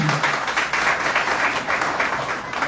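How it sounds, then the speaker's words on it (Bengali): An audience at a press conference for a New York New Year celebration gives a steady round of applause, a dense patter of clapping at moderate distance for the whole stretch, without speech. "তো আমরা প্রথমেই ওনার অভিবাদন জানাই একটা করতালি।"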